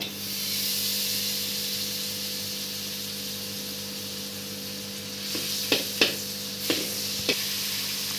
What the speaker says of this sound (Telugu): ఫస్ట్ బటర్ వేస్తున్నాను కళాయిలో